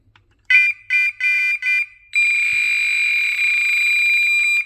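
BearCreeks BCBA02/BCBA03 carp fishing bite alarm beeping loudly and close, four quick tone bursts followed by a long sustained high-pitched electronic tone with no talking.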